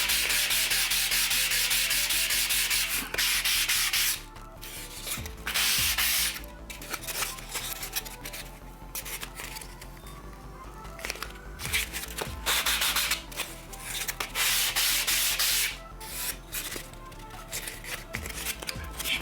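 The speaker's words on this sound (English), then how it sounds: "If you get some squeeze out, just little bit, hit it with some sandpaper." Sandpaper scrubs glue squeeze-out off miniature trim on a model building, a close, dry rasping rubbed back and forth in quick strokes with brief pauses between passes, no talking.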